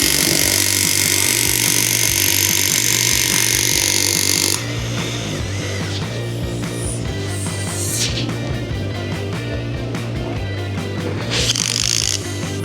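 Power drill boring a 3/8-inch hole overhead indoors, a loud steady high-pitched whine with a sudden drop in pitch partway through and brief surges near the end, no talking.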